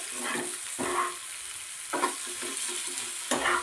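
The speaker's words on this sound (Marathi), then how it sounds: "एक चम्मचभर एवढा बारीक केलेला गूळ टाका आणि मिक्स करायचं" Bitter gourd stir-fries in a pan with jaggery while a spoon stirs it. Several scraping strokes sound over a continuous close sizzle.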